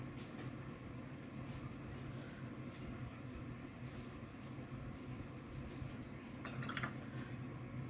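A paintbrush is swished and rinsed in a water jar while watercolours are mixed, giving soft liquid sloshing with a few faint drips, quiet and close with no voices.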